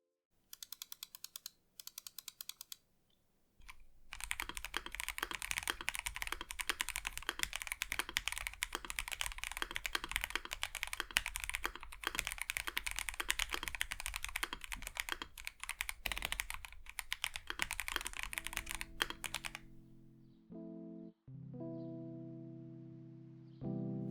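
Dense, muted keystrokes from a stock MelGeek Mojo 84 mechanical keyboard with pre-lubricated stabilizers, a brief burst of taps followed by a long steady run of fast typing, close and clear, ending in a short tonal passage.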